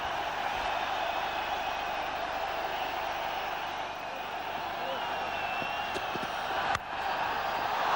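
Dense, steady roar of a large cricket crowd at a 2006 India v England one-day international, cheering a boundary struck through the offside, sustained and loud throughout with a commentator's voice faint underneath.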